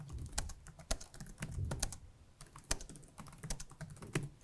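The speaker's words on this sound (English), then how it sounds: "what you can do is actually quite literally type what you want" Quiet, close typing on a computer keyboard, irregular bursts of sharp key clicks with brief pauses, no talking.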